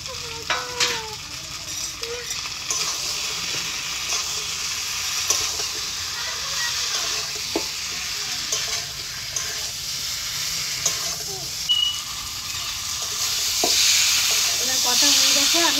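Fish curry with potatoes and chui jhal chillies sizzling and frying steadily in a pan, with occasional stirring scrapes and bubbling throughout, close and fairly loud with no talk.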